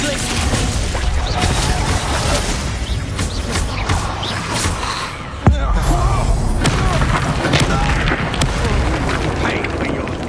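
Confringo blasting spells erupt in Hogwarts Legacy combat, a dense, continuous roar of booms and crashes with one sharp bang near the middle, layered under busy battle noise and voices.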